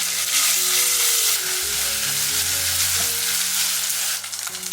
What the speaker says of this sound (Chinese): 然后我们来起锅热油，把肉末放进来炒香。